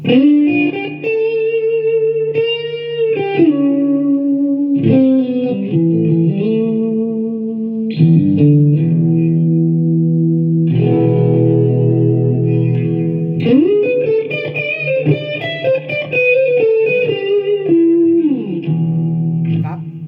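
Distorted electric guitar played through a preamp and effects unit with reverb and chorus, sustained chords and single notes ringing out loud and steady for about twenty seconds, no talking over it.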